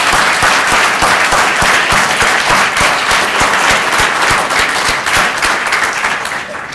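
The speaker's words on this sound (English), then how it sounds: "I'd like to give them a round of applause." Sustained audience applause at a 2015 EMS awards ceremony, a loud, dense crowd clapping steadily for about seven seconds with no break.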